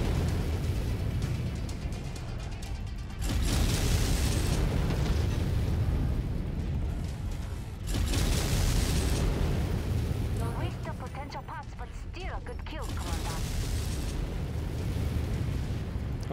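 A mech explodes in the video game MechWarrior 5: Mercenaries, with heavy booming blasts around 3 and 8 seconds over rumbling battle noise, while someone talks in German over the game.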